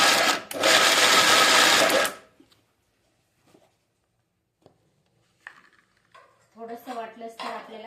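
An electric mixer grinder crushes wheat in a loud, whirring burst of about two seconds that stops abruptly, followed by near silence, a few small clicks and a voice speaking.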